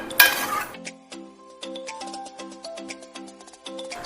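A spoon stirs carrot halwa with milk in a pan over high flame, making light clinks and scrapes in a loose, repeating rhythm, close and fairly quiet, after a short hiss at the start.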